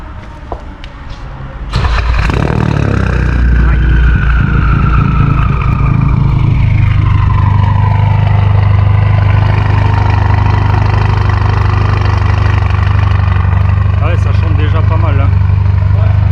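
Car engine with the decat and rear silencer removed cranks and catches, then settles into a loud, deep, raspy idle that drones steadily throughout, with people talking over it.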